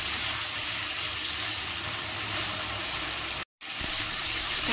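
Water pours steadily into a pan of Bengali katla fish curry, a continuous gushing splash that breaks off sharply for a moment near the end, then resumes.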